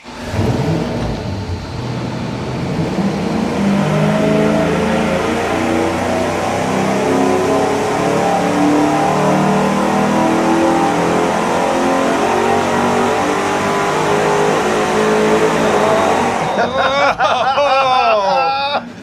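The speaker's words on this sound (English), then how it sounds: "We're ready to fire up and run it with the single exhaust with a turbo muffler and the 90-degree" An engine on a dyno, running a single 3-inch exhaust with a turbo muffler and a 90-degree merge, roars loudly and steadily at high revs for a long stretch before cutting off, and voices follow.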